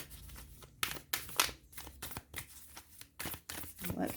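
Tarot cards being shuffled by hand in a quiet room, a run of crisp riffling bursts and papery slaps repeating in an uneven rhythm, close and fairly soft.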